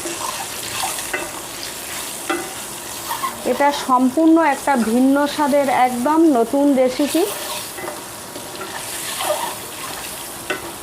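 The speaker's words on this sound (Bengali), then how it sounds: "আমি ডিমটা একটু ভাজা ভাজা করে নেব" A boiled egg with turmeric and salt sizzles steadily in a pan while someone talks through the middle stretch. The frying hiss carries on alone before and after her voice.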